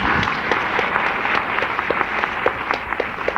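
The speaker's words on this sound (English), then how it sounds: "Well-deserved applause." A small audience at a panel discussion claps in a brief round of applause. Individual claps stand out clearly in a fairly thin, steady patter lasting a few seconds.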